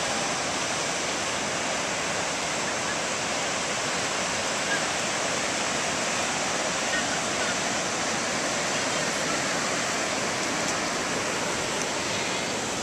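Ocean surf at Coco Beach, a steady broadband wash of breaking waves that holds constant and fairly loud throughout, with no distinct individual crashes standing out.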